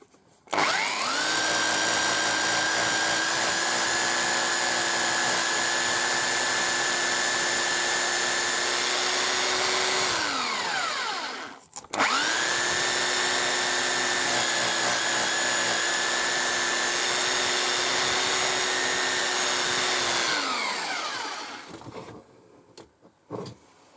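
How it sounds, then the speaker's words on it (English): A heavy duty hammer drill bores into stone in two long, loud bursts of steady, high-pitched whine. Each burst lasts roughly ten seconds, and the motor winds down at the end of each, with a short pause between them. "use a heavy duty drill, and it's a hammer drill"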